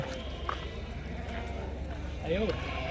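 Sheep bleat at a busy Saturday livestock market in Angallu. Two or three wavering bleats rise from nearby over a steady crowd murmur while people talk.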